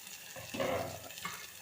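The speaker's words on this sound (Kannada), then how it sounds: "ಫಸ್ಟು ಲೋ ಫ್ಲೇಮ್ ಕೊಟ್ಕೊಂಡು ಇದನ್ನು ಚೆನ್ನಾಗಿ ತಿರುಗಬೇಕು" Three beaten eggs fry in a pan over a low flame while being stirred, giving a soft, steady sizzle with light scraping, close and alone without any talking.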